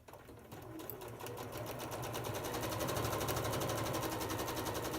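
A sewing machine stitches a flying goose quilt block, its needle running in a fast, steady drone that builds slightly and then holds even and close for the whole stretch.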